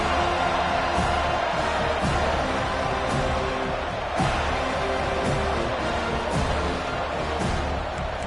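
A packed stadium crowd at a Florida State versus Penn State college football game roars steadily around kickoff, a dense, continuous wash of cheering with occasional sharper thumps, heard at a distance without clear voices on top.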